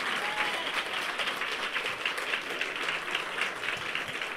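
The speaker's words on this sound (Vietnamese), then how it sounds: "chúng ta cùng vỗ tay ngợi khen Chúa 5 giây" A church congregation applauds together in praise during a service, a dense, steady wall of clapping held for several seconds at an even, fairly loud level.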